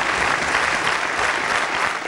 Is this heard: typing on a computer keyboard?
no